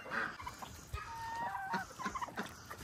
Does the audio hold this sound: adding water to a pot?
no